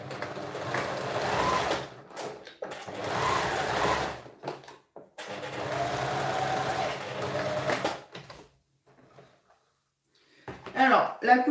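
Sewing machine running a fine, long zigzag stitch while assembling a garment, in bursts of steady whirring separated by short pauses, with someone talking over it.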